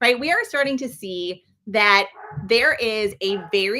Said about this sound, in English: I apologize if you hear the dogs in the background.